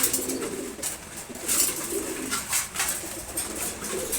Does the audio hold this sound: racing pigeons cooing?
yes